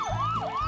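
Cartoon siren from Gordy the fire truck, a rising and falling wail sweeping twice in under a second, loud and close over a low rumble, with no talking.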